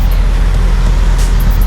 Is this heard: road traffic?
yes